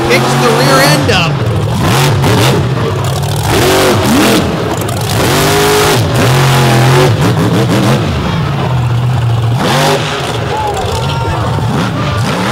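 A monster truck engine at a 2023 monster truck event in Brooksville revs hard and loud, its pitch rising and falling in repeated throttle sweeps over a constant roaring backdrop.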